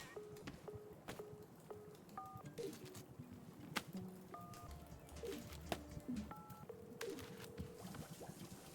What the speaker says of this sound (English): Oh, I hear a phone.